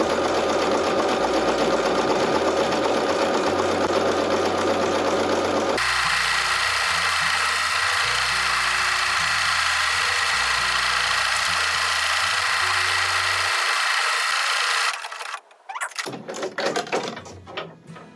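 A Bernina 790 Crystal Edition sewing machine stitches a monogram, a steady, loud mechanical whir with rhythmic stitching pulses that shift pace partway through, then stop and give way to scattered handling clicks.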